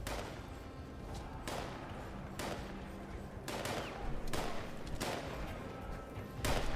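Repeated gunshots in Fallout 76 while shooting at Silas, several sharp loud cracks spaced about a second apart over a steady rumbling game background.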